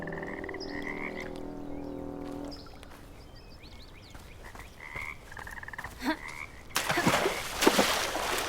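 Frog King croaking in a spooky video game, a loud low croak with stacked harmonics for the first few seconds, then quieter game ambience with short chirps and a burst of noisy rushing sound near the end.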